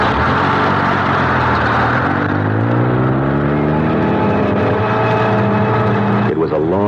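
A steady engine drone of a moving bus plays as a sound effect in a radio drama, loud and continuous for several seconds, with a voice briefly speaking near the end.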